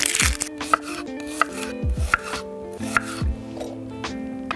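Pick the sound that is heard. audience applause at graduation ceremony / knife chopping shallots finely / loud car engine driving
knife chopping shallots finely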